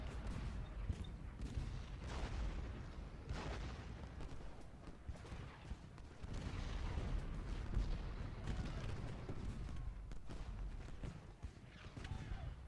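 Artillery fire in Ultimate General: Gettysburg, a Civil War battle with repeated low booms and scattered gunfire rolling on steadily through the whole stretch, at moderate distance with a faint voice underneath.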